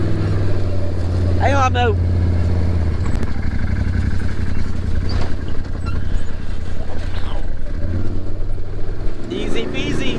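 A Can-Am ATV drives through a desert wash at Slab City with a loud, close engine drone that holds steady throughout, while people talk and exclaim over it.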